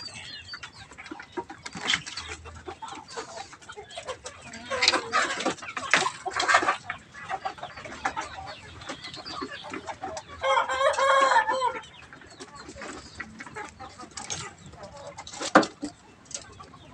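Fighting-breed chickens cluck and chatter nearby while a rooster crows loudly partway through, with scattered farmyard noises around them.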